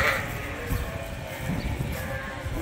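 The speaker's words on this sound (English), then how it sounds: "So the sheep are way more friskier today because of the cooler temperatures." Sheep bleat inside a barn on a cool day, the calls rising over a constant rumble of animal movement and barn noise, close and fairly loud.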